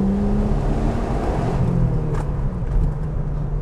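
A 1997 B5-generation Audi S4 engine rumbles steadily with a deep, throaty idle and slight rises in revs, close and loud with no talking.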